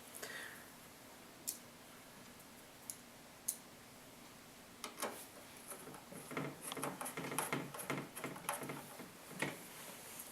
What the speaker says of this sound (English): screw it in with the Phillips screwdriver